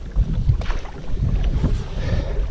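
Oars dip and pull as a rented rowboat moves across the water on a cloudy day, irregular splashing strokes with wind noise on the microphone and no talking.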